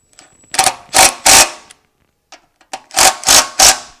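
A torque wrench tightens electric starter bolts on a Honda GX390 engine, giving two groups of three sharp ratcheting clicks separated by a short pause, loud and close with no talk.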